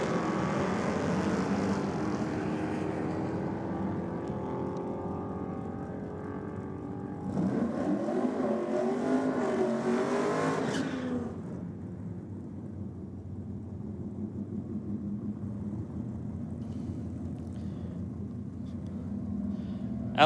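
Cars launch on a qualifying pass at a state championship drag racing meet, a loud, continuous engine roar that swells as they pass and then drops to a steady distant rumble.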